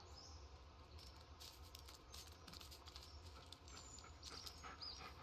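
Soft, steady panting of a dog companion in the horror video game Blair Witch, faint and continuous under quiet ambient game sound, with a sharp louder sound at the very end.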